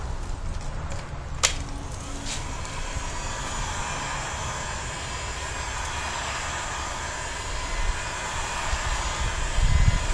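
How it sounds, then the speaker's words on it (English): A heat gun blows a steady, close roar as it heats a PVC bow riser, with a couple of sharp clicks near the start and the airflow swelling toward the end. "Taking our heat gun."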